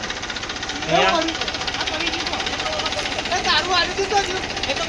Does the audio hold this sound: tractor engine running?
yes